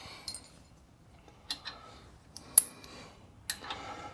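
Metal washers clink together as they are stacked in pairs, giving four or five sharp, bright metallic taps spaced about a second apart, close and fairly quiet.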